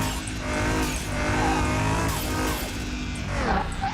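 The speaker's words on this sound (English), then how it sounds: "that turbo popped and all that horsepower just came out." Turbo blow-off valve venting in the Car Mechanic Simulator 2021 video game, a loud, continuous engine roar with a rushing whoosh and rising whistles, close and filling the whole stretch without talk.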